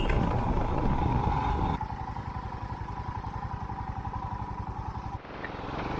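A Royal Enfield Himalayan motorcycle on a hill road puts out a steady, close engine drone. Halfway through it settles into a more even pulsing thump, with a faint clatter running underneath.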